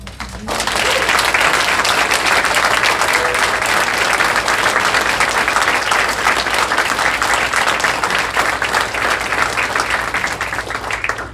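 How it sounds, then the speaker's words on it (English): Sustained audience applause at a school board meeting, as parents stand to be honored: a loud, even roar of many hands clapping that holds for about ten seconds before tapering slightly. "would you please stand up for a round of applause"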